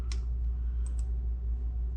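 Mouse clicks at a computer running Logic Pro: a single sharp click, then two quick clicks close together, faint and near against a steady low hum, with no talking.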